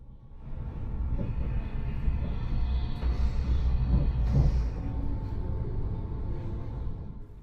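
A high-speed train pulls out of a Brussels station, a steady, close rolling rumble with low throbbing that swells slightly as it gathers speed.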